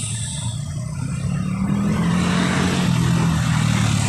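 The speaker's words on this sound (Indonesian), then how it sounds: "Di belakangnya lagi itu ada bus." A bus engine rumbles close by, growing louder and steadier as it passes, with a low droning hum.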